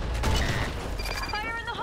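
Gunfire in the video game Blackshot, a muffled burst of shots with booming low end, overlapped by speech and game effects.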